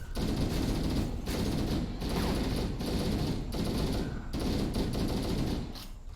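Rapid automatic gunfire in Halo: Combat Evolved, loud bursts of dense shots lasting about a second each, separated by brief pauses, repeating about five times.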